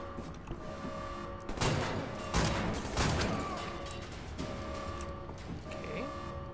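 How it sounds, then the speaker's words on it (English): Gunfire in Wolfenstein: The New Order crackles in a few clustered bursts over a steady humming game background, then thins out to scattered distant pops. "Somebody's still shooting."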